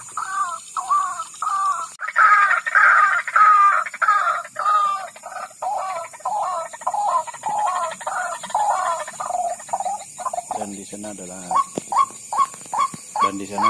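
White-breasted waterhens calling at night, a rapid series of loud, close, repeated squawking notes in a steady rhythm that shifts to deeper, throatier calls toward the end, with a faint hum underneath.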